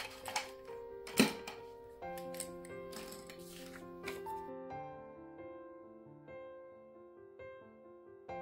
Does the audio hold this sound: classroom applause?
no